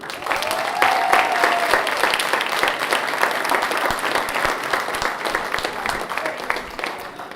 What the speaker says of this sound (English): Let's give him a round of applause, y'all.